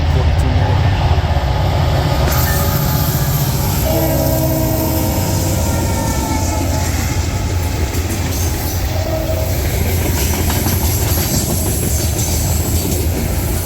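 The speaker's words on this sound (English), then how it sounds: "16R came up the D&H with SD60 6959 sounding her sweet horn through town" A CSX SD60 locomotive, number 6959, sounds its loud sustained horn as a freight train rolls through town with SD70AC and AC44CW units, horn blasts layered over heavy continuous rumble and wheel noise close by.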